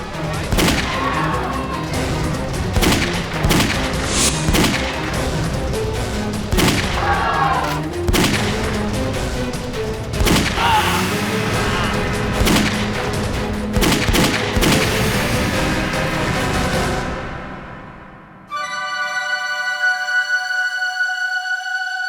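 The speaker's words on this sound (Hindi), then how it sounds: "किसने गोली चलाई?" Repeated loud gunshots crack out in a rapid, irregular volley for several seconds, then the firing stops and a sustained tonal sound follows.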